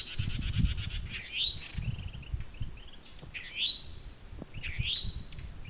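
Wrens and a towhee calling outdoors: a rapid trill at the start, then repeated rising whistled chirps at regular intervals over a low rumbling background, fairly close and clear.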